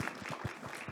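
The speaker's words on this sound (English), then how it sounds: "Let's give our panelists another round of applause." Audience applause for the panelists at the close of a university panel discussion, faint and steady, with rhythmic clapping swelling and fading through the short stretch.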